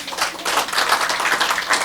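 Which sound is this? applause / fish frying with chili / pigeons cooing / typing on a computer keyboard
applause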